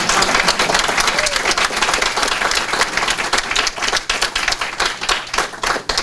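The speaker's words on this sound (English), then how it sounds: "Can I get applause for that one really quick?" Audience applause fills the room, a dense sustained burst of many hands clapping at close range, loud and steady for several seconds with no talking over it.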